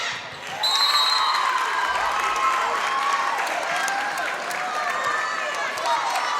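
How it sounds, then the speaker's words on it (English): Home crowd in an Ashland high school gym at a volleyball playoff match against Medway, sustained cheering and clapping with shoe squeaks, while a commentator talks over it. "The Ashland home crowd tries to fire up their team"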